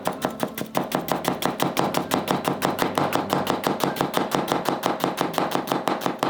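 A chef's knife push-cuts rapidly through food, such as onion, on a cutting board while mincing. The chops are crisp and close, in a fast, steady rhythm of about seven per second with no pauses, and no one speaks.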